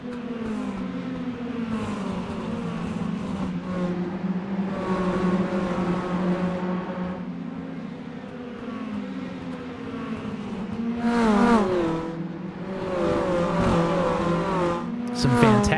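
Mini stock race cars in an iRacing video game race at Southern National, several engines buzzing and revving together like angry lawnmowers, pitch rising and falling through laps with brief surges as cars pass close.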